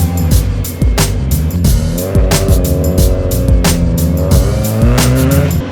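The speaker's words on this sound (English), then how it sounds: "can be a little rough on the cold starts every now and then" A 1990 Mazda MX-5 Miata engine runs loud and rough on a cold start, with lumpy, irregular pulses and sharp popping bursts throughout.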